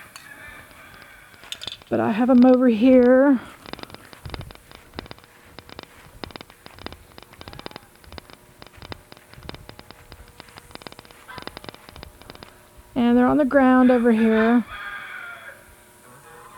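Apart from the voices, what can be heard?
rooster crowing outdoors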